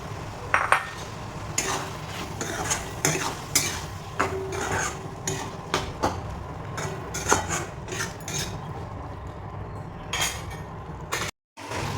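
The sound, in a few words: stirring fried prawns into onion in pan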